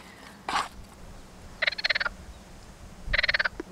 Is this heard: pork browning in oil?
no